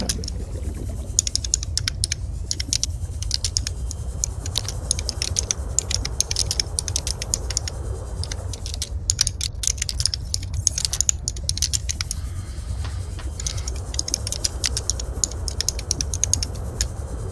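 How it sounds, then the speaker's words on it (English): Rapid clicking of long fingernails typing on a computer keyboard, quiet steady patter in irregular bursts over a low background hum. "that is Joe's talons on her keyboard"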